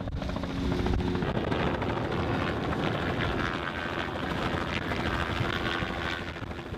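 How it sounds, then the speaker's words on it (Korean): A helicopter emerging from thick sea fog over the Arctic during summer, its rotor and engine making a loud, steady drone that fills the whole stretch with no pauses. "그때 안개 속에서 헬기가 모습을 드러냅니다."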